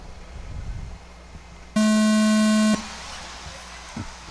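A loud electronic start tone for a five-car race, one steady buzzing beep lasting about a second over faint background noise and murmur.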